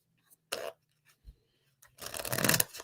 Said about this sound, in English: I'm going to shuffle pretty good